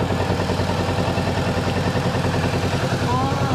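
A 2023 Kawasaki Z650 motorcycle sits idling with its radiator fan blowing, making a steady, close, even engine drone and a constant whir that runs the whole time.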